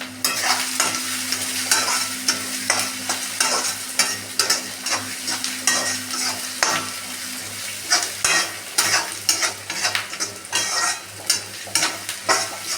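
Onions sautéed in a pan for a snake gourd and lentil sambar, a spoon scraping in quick rhythmic strokes over a continuous close sizzle, with occasional clinks of metal on the pan.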